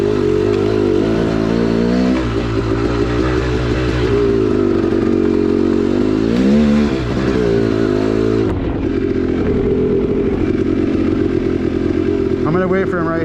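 A dirt bike engine riding on mountain trails near Quincy, California, a loud close buzzing drone that rises and falls with throttle, steady throughout with wind and rider noise.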